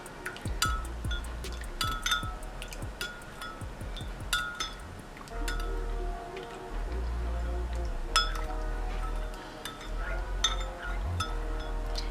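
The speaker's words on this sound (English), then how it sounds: "You stir that in really," Spoon clinking against a cup while stirring a warm body-enhancer tea with a solid jelly ingredient, with repeated light metallic taps in irregular bursts close by and a low background hum.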